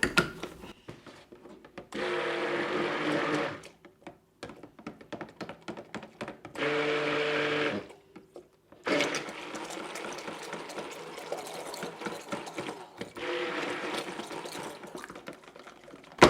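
A stick blender whirs through soap batter for a handmade soap in three loud bursts of several seconds each, separated by quieter clattering and handling noises, with no talking.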